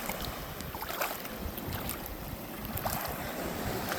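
Steady wind roars across a rainy Navarre Beach in Florida, buffeting the microphone with a constant broadband rush and faint surf beneath, no voices.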